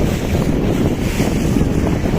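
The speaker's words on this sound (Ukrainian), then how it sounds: "Ну, вітер трошечки вже зменшився, але все рівно з 5 до 4 балів" Strong wind at sea, gusting to force 5, roars steadily across the microphone, with rushing, blustery noise like open water, loud and constant, no voices.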